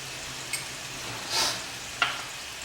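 Chicken fries in oil with garlic ginger paste, giving a soft, steady sizzle with a couple of brief stirring clicks and a short hiss swell in the middle, quiet and with no talking.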